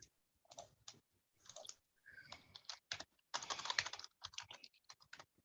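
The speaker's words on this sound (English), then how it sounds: "You typing fast over there." Fast typing on a computer keyboard in bursts of rapid clicks separated by short pauses, close and clear with no talking.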